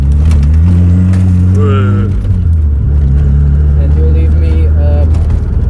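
A Mazda RX-7 FC rotary engine revs loud and close, its pitch climbing and dropping through several rev swings, while someone talks over it.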